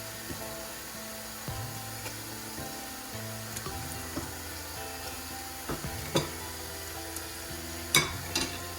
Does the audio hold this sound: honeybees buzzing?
no